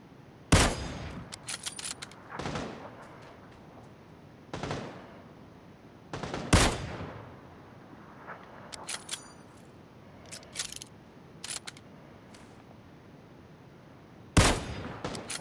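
PlayerUnknown's Battlegrounds gunfire, sparse loud single shots and short bursts spaced several seconds apart over a quiet background, some followed by faint metallic clinks.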